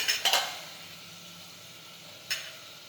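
Spices and garlic chutney going into a pan of ridge gourd curry, heard as a few soft spoon clinks against the pan over a faint, low sizzle, with no talk.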